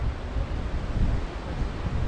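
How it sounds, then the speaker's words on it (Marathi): Wind buffets the microphone while sea waves wash steadily below a raised coastal viewpoint near Devgad and Malvan, a continuous dense rumble and hiss with no voices. "बाजूला समुद्र आहे."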